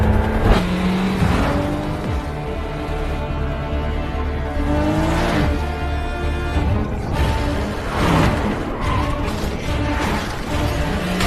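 A car in a Korean gangster film scene revs hard and accelerates away, its engine roaring loud and close in surging waves with bursts of tire and road noise and no talk.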